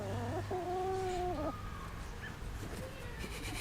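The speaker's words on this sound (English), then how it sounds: "so this is my favorite chicken" A chicken held in someone's hands lets out a drawn-out squawking call, then softer clucks and rustling follow close by.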